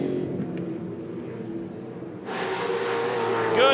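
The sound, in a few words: V8 Supercars race cars racing at Perth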